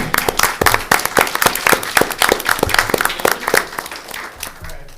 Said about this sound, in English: Ladies and gentlemen, a round of applause for Ms.